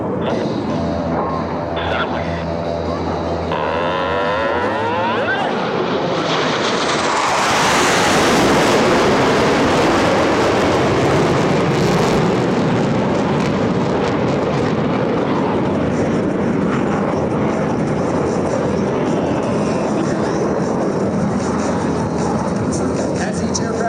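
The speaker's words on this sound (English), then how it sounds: "Approaching center point, each pilot will perform an individual brake turn and exit the flight line in a separate direction." US Navy Blue Angels jets at a Texas air show scream past low during individual brake-turn breaks. A loud roar builds and sweeps overhead, then a long rumbling jet wash follows, with an announcer talking throughout.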